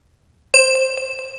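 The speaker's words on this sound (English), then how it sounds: "So let's put in this bell right here." A bell one-shot sample triggered in FL Studio, a single bright ding that strikes after a short silence and rings on with a shimmering metallic tone.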